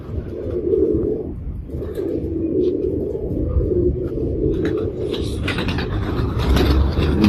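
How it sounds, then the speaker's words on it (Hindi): Pigeons of a prized breed kept by a fancier coo in a low, continuous murmuring drone, close and steady, with faint background rustle and a few sharper sounds in the last seconds. "ये कबूतर है"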